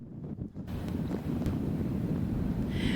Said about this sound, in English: Oh, it's windy. Wind's blowing, snow's blowing in your face, it's icy.